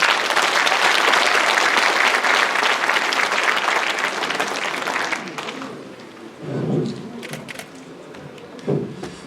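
Applause from a crowd at the inauguration ceremony of a city sports council president, dense and loud for about five seconds before tapering off, with a voice then speaking over a quieter room.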